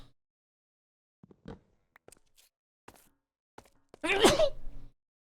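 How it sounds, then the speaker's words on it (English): A single close sneeze bursts out sharply and briefly after a stretch of near silence broken only by a few soft knocks and small movement sounds. "Rare single sneeze."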